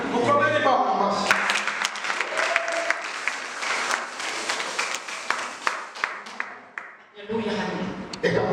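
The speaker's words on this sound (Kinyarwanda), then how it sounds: "Mukomere Imana amashyi." A church congregation applauds God during a sermon, with loud, sustained clapping and scattered sharp claps over several seconds, while a preacher's voice opens the sound and returns after the clapping fades.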